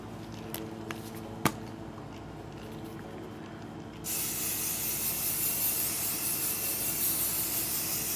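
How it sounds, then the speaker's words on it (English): A steady hiss of Kryolan makeup fixing spray continues for several seconds after a quiet stretch with a single sharp click. "Then I'm going to go in with the Kryolan fixing spray."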